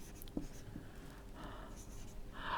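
Marker or chalk writing on a board during an English vocabulary lesson, a few faint scratchy strokes with a brief tap, quiet and close with light room noise.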